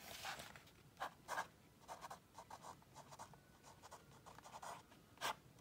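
A pen writes on a small birthday calendar card in short scratchy strokes, separate bursts with brief pauses between them, close but soft, with no voices.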